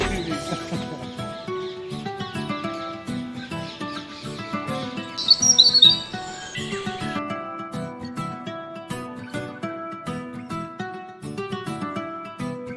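Many birds in a Tehran bird garden chirp and call loudly over one another in a dense, continuous chorus, with a brief burst of sharper, shrill calls partway through.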